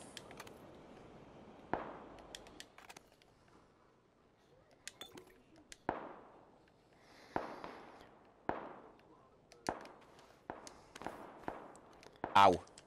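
Distant gunshots from a far-off shooter in a video game, about a dozen sharp cracks spaced unevenly across the clip with quieter gaps between them.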